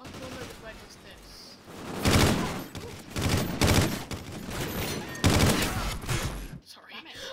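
Gunfire in Call of Duty Ghosts hardcore mode: loud bursts of automatic fire come in clusters several times, with bright crackling shots and pauses between them, while a player talks over the action.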